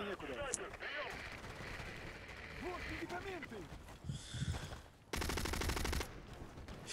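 An MG36 machine gun in the online shooter Battlefield Play4Free fires one rapid, loud burst near the end, after scattered distant gunfire, while someone talks excitedly over the game.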